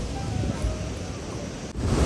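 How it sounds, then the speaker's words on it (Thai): Niagara Falls roars as a broad, dense wash of rushing water with constant spray, heard close and loud with gusts of wind buffeting the microphone. "มาดูวิวน้ำตกทั้ง 2 แห่งจากไกลๆก่อนนะครับแรงมากๆเลยนะครับ"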